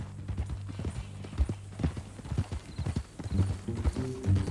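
Horse hooves clip-clop in a steady walking rhythm in the video game Red Dead Redemption 2, with a brief whinny and some low background rumble, moderately close.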